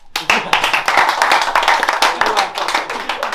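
A rap battle crowd breaks into loud, close clapping that starts abruptly and keeps going as a dense, uneven patter of many hands.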